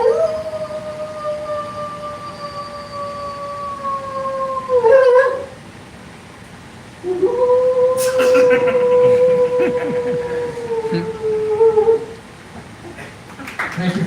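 A comedian on stage vocally imitates werewolf howls, first a loud, close sustained howl lasting about five seconds, then after a short pause a second longer howl delivered as if from farther away, with brief audience noise between.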